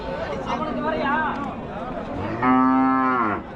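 Cattle at the Muthunayakkanpatti cattle market in Salem: someone talks over a faint background of livestock, then one loud, close moo rings out for about a second near the end, partly over his voice.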